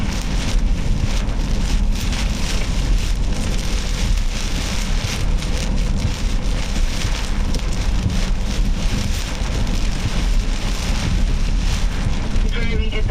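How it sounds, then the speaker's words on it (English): Strong derecho wind gusts roar and buffet continuously in northern Indiana, loud and broadband with rain-like hiss and heavy wind noise on the microphone. "Significant wind shift here. Wind is shifting rapidly here."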